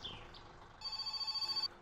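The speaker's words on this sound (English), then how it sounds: "There's the phone call we want to get." Telephone in the game My Summer Car rings in a short burst of rapid electronic trills, heard once after a brief chirp, fairly quiet and alone.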